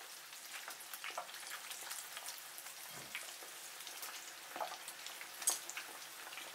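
Marinated beef pieces fry in hot oil for Mongolian beef, a soft, steady crackling sizzle with scattered small pops, fairly faint and close, no voices.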